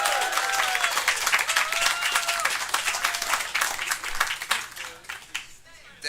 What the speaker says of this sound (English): That sound like a good clap